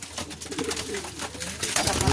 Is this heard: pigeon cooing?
yes